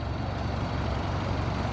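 Air suspension on a lowered car pumping up from ride height to full height, a steady low compressor drone with a pulsing buzz, close and continuous.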